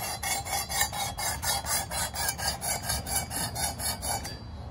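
Knife blade worked on a Work Sharp sharpening system's 220 grit abrasive: about a dozen even, rhythmic rasping strokes back and forth, close and fairly loud, stopping at the end, with no speech.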